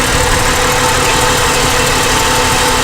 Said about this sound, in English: I'm just going to pull these up and watch for the revs to drop